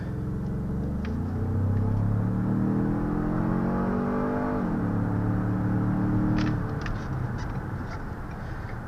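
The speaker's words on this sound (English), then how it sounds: "We're going to see how fast this baby accelerates." A 2016 Ford Explorer Sport accelerates from inside the cabin, its engine note rising steadily, dipping at a gear change, then climbing again, with light road noise underneath.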